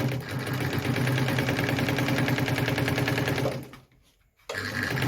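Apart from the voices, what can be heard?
Phoenix E10 sewing machine sewing four layers of denim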